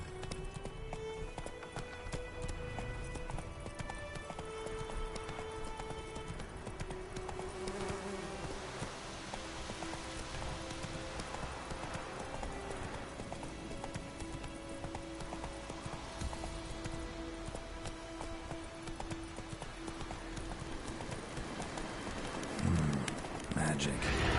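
Galloping horse hooves from The Witcher 3 video game, a steady rapid clip-clop rhythm running throughout under game music and ambient buzzing, with a brief louder burst near the end.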